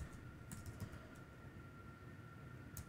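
A few soft keystrokes clatter on a computer keyboard in scattered small bursts, faint and somewhat distant over a steady low background hum with a faint tonal whine.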